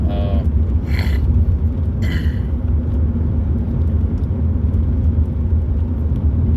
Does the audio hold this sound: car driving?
yes